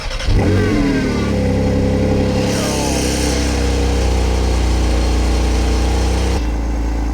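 A car engine revs loudly and steadily up close, its pitch rising and holding in a sustained roar before cutting off near the end.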